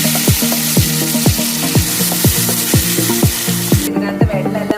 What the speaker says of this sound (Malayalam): ചൂടായി വന്നതിന് ശേഷം നമുക്ക് നമ്മുടെ ഒനിയന്റെ അരപ്പിടാം.